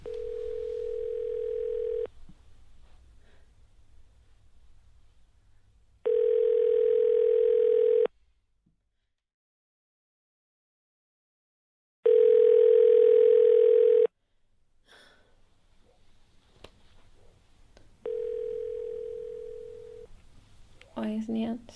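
A telephone ringback tone sounds on a call in four evenly spaced, steady buzzing pulses, each about two seconds long, with quiet gaps between and brief faint noise near the end.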